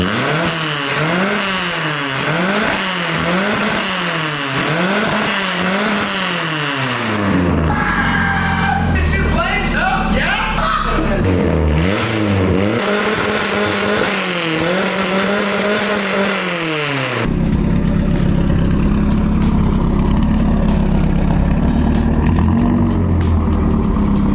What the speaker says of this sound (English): This is the first startup on the S10 fully straight pipe.